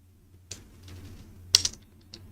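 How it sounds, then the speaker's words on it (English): A handful of scattered key clicks from a computer keyboard during a coding session, close and sparse over a low electrical hum. "let me type this out quickly"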